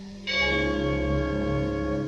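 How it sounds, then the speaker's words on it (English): Single deep bell or musical chime struck once in a vintage radio drama, ringing out with a rich sustained tone that hums steadily without fading. "When you hear the musical chimes"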